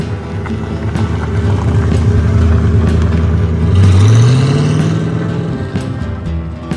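A 1957 Chevy 3600 pickup driving along a scenic road, its engine a steady mid-pitched drone that swells briefly as it accelerates midway, close and loud with no talking.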